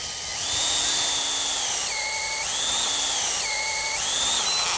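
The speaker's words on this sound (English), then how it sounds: "So I'm going to start drilling in here." A drill bores a tap hole into a maple tree on Salt Spring Island, its loud high whine rising and falling in pitch through several repeated pushes, with no talking.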